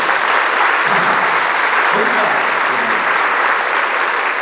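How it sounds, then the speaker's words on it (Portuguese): A church congregation applauds a young man who has just given his testimony, a steady broadband wash of clapping with a few voices faintly audible underneath. "Vamos dar um salve de palmas para ele"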